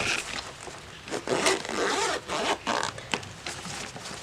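A zipper drawn along a side pocket of a pencil case, with several quick zips and rustling scrapes, close and fairly loud, with no one talking.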